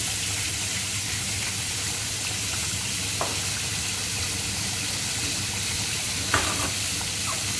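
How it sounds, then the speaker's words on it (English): Vegetables for a vegetable curry sauté in a pan, seasoned with salt, pepper and lemon, giving a steady close sizzle with a couple of brief stirring clinks. "They're just going to saute on down"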